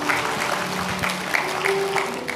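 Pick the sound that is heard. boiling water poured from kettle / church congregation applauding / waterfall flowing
church congregation applauding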